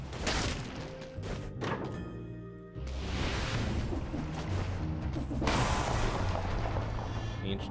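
Grenades burst in the Dead Cells video game, a run of booming thuds and crashes layered over dense game noise, with a heavy hit near three seconds and another surge toward the end.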